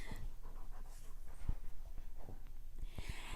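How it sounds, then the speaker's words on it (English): A dog pants softly and steadily in a quiet room, with faint breathy puffs and small shuffling sounds close to the microphone. "I am dog sitting."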